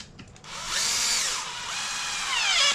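A power drill drives the bottom screws into an Arrma Kraton ExB RC truck, a steady close whine that rises and falls in pitch as each screw seats, after a few short clicks at the start.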